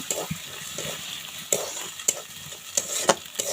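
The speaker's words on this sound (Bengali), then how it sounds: "ডিমটা দিয়ে ভালো মতো করে ভেজে নিব" An egg fries in a pan for pasta, a continuous sizzle broken by sharp scraping stirs of the spatula that come roughly every half second toward the end.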